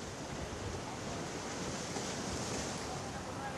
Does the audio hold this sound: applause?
no